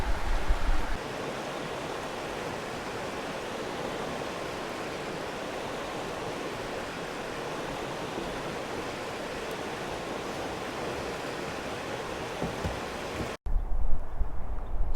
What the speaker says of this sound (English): Excuse the wind.